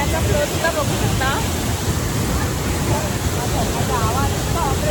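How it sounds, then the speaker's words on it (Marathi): Rushing water pours down a waterfall in Gangtok, Sikkim, a loud, constant broadband roar with faint voices in the background. "बघा तुम्ही पाण्याचा फ्लो सुद्धा बघू शकता."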